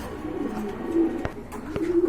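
Racing pigeons at a market stall coo in low, soft, repeated calls over a steady murmur, with a couple of sharp clicks nearby and no speech.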